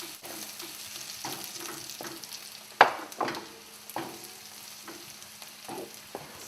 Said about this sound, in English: Stir these eggs.